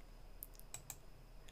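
A few quiet keyboard clicks and key taps, with a couple of sharper clicks, spaced irregularly over a low steady hum while a computer is used to set up a game interface.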